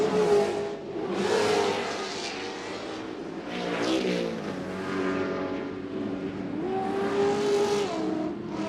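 Loud engine roar from Pro Lite racing trucks passing close on a Las Vegas race track, pitch rising and falling as they accelerate and sweep by continuously.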